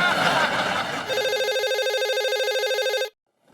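A landline telephone rings loudly in repeated electronic warbling bursts, alone, after a short stretch of overlapping voices at the start, then cuts off abruptly.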